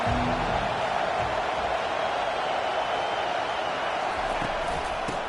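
A dense stadium crowd roars steadily in the NCAA 25 college football video game, a loud continuous wash of cheering noise with no clear breaks.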